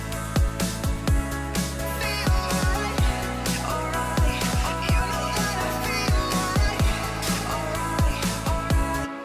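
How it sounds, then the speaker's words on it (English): Breakbeat drum loop built from a punchy kick and snare, repeating steadily in a dense electronic dance-music production with layered synth tones, loud and continuous throughout. "So there's a little breakbeat section here."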